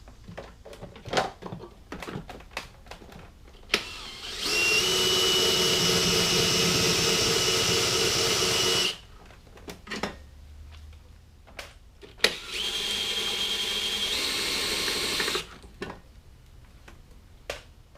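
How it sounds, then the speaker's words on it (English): An electric drill whines in two sustained bursts while drilling a hole on a motorcycle, the first about four seconds and the second shorter, with clicks and knocks of handling between them. "So I'm going to drill a hole and run my line."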